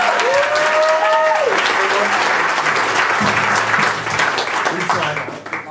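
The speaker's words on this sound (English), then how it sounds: "let's give it up for Mr. Josh Sutton!" An audience bursts into steady, loud clapping and cheering for Josh Sutton at a live BettaKultcha event in Leeds, with a host's voice briefly heard over the start of the applause.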